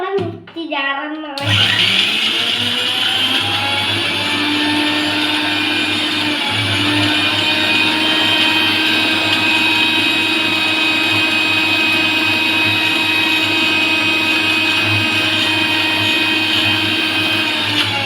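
Mixer grinder (mixie) jar with its lid tightened, starting with a brief rattle and then roaring loudly and steadily at high speed for the rest of the clip, no talking.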